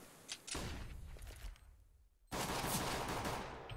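Gunfire in Counter-Strike on the Inferno map during a competitive match, with a few sharp shots followed by a loud sustained burst of firing at close range.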